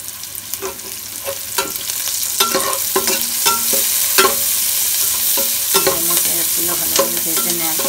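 Spice paste stirred and fried in a pan, with steady sizzling under repeated scraping strokes of a spoon, close and moderately loud, no voices.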